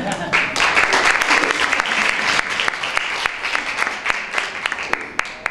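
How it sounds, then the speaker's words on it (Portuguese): An audience at a comedy show applauds, a loud, close wash of clapping with crisp individual claps, holding strong for several seconds before thinning slightly toward the end. "é só para ouvir o aplauso de novo"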